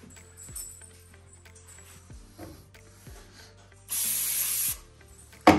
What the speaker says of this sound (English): I'm gonna wipe it out with a nice clean rag and some brake clean.